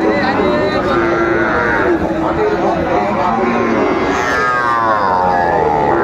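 Cattle moo loudly and close by at a livestock market selling Sahiwal bulls and calves, long drawn-out lows over a busy background of people talking.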